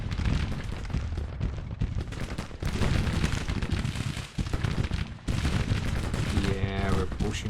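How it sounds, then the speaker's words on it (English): Dense musket volleys and scattered rifle fire crackle continuously in a Civil War battle in the strategy game Grand Tactician: The Civil War, loud and sustained with brief dips between bursts. "Now we do not want to shoot on our troops, so we're gonna go fire at will."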